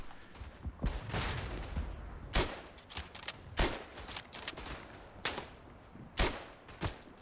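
Karabiner or K98 rifle shots ring out in the World War I shooter Verdun, with a rapid scatter of sharp cracks, some close and loud and others distant, amid ongoing battle noise.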